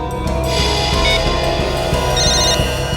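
A telephone rings after a number is redialed, a loud, steady electronic ringtone filling three seconds with no talking.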